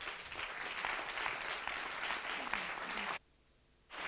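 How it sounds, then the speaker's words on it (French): An auditorium audience applauds the jury at a PhD-in-180-seconds final, a steady, dense wash of clapping for about three seconds that cuts off abruptly into near silence before faint room noise returns. "sous vos applaudissements, toujours"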